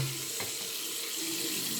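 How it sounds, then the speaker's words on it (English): Hot tap water running steadily into a sink to rinse a Nespresso machine part held upside down, a constant close hiss and splash with no talk. "introduce the water from this side and let it drip from here"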